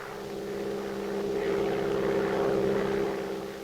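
A propeller aircraft flying over the Arctic in a 1960 Canadian documentary, a steady droning engine hum that swells gently and then eases, heard alone.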